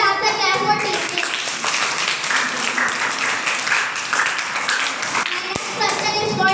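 A crowd of children claps and applauds for a team's correct answer at a school quiz competition for 23 March. The clapping is dense and steady throughout, with kids' voices mixed in.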